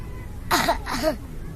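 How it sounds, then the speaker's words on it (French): Two quick, harsh coughs close to the microphone, one right after the other, over a low background hum. "Dis-lui de tousser."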